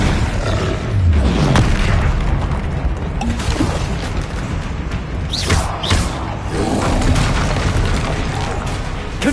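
Confringo spells in the Hogwarts Legacy video game burst with repeated deep booms and mechanical clatter. The blasts sound near and loud over a steady rumbling battle bed, with a few sharper pops scattered through.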